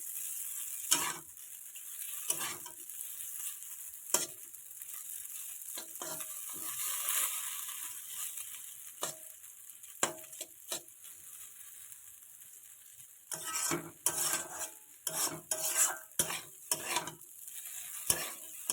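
A spatula stirs and scrapes chowmein noodles frying with onion in a pan over low gas, giving a steady soft sizzle broken by repeated sharp scraping strokes that bunch into a quick run near the end.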